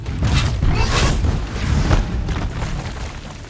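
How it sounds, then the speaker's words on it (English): A tripwire trap explodes in Horizon Zero Dawn, a loud booming blast with a rough, crackling burst that rolls on for a few seconds before tailing off. "throw down a tripwire at the front and back of a machine to really quickly set and explode the trap"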